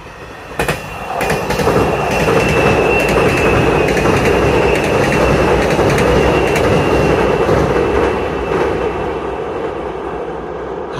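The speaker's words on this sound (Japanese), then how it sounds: "ついに待ちに待った特急が来たあ8600やだろ 結構ガタンゴトン言うの外から行く。" A limited express 8600 series train crosses the Kamogawa railway bridge on the Yosan Line in Saijo, Japan, rumbling steadily and loudly, with rhythmic wheel clatter and a faint high metallic whine throughout.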